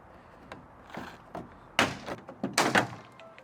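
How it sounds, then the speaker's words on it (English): Plastic retaining clips popping loose as a truck bed liner is pried off, a run of sharp close snaps and hollow plastic thunks, several clustered near the end, with faint rustling between them. "those clips, they may sound like crap's breaking, but it's not"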